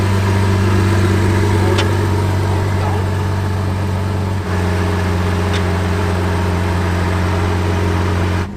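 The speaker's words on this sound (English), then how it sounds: "I love the sound of this car." A 2022 Lamborghini engine idling up close, a loud steady low rumble with an even drone throughout, a slight dip midway and a couple of faint clicks.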